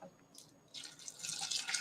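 Water runs from a tap as a small amount is added for homemade pleco and shrimp fish food, a faint, close trickle that swells into a steadier splashing stream.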